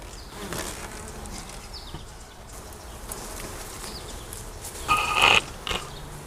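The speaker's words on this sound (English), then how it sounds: "Yeah, they're working on it. Quite a few bees." Honey bees buzz steadily close by at an open hive during an inspection, a constant droning hum with a brief louder burst near the end.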